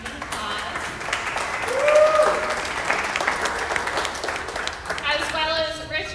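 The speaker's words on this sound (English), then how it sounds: "So if we could get them a round of applause." Audience applause at a design talk event, a steady wash of clapping from a crowd lasting several seconds, with some voices and a brief whoop heard within it.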